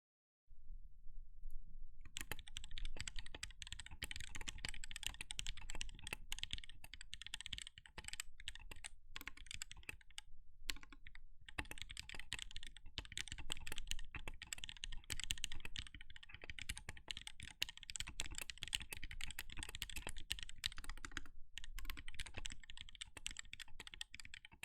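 Close-up typing on a Korean keyboard with stock silk red switches, a sandwich mount and a stainless steel plate, a fast, continuous clatter of crisp keystrokes with only brief pauses over nearly half a minute.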